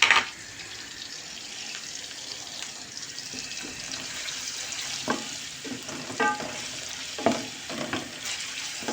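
Chicken legs frying in a pan with a generous amount of water and fat for a Thrace-style chicken and rice dish, giving a steady soft sizzle with occasional brief clinks and stirring sounds.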